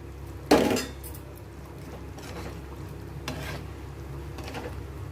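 Paneer pieces going into a simmering tomato curry, with one sharp clink of utensil against pan followed by a soft, low bubbling and a few faint scrapes.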